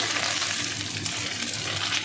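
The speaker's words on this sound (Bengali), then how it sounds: "এদিকে মাছটাও প্রায় আমার ভাজা হয়ে গেছে লাল লাল করে।" Small fish fry in a wok with a continuous close crackling sizzle, even and unbroken throughout, with faint stirring under it.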